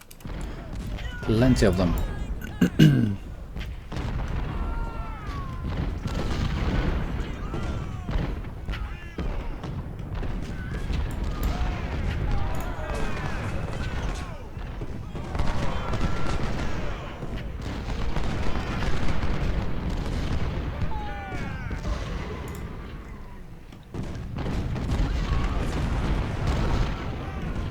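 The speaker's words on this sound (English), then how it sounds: "Just hear the reverberation of cannons going off." Cannon artillery fire in the video game Ultimate General: Civil War, a continuous rumbling barrage of booms rolling and overlapping at a distance, with a person talking over it now and then.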